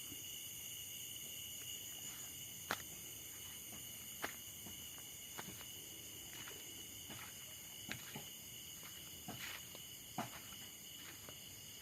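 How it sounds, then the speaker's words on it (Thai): Crickets chirp steadily in a continuous high trill, with occasional faint ticks and rustles scattered through the quiet night air. "ได้ยินแต่เสียงจิ้งหรีดร้องนะครับ"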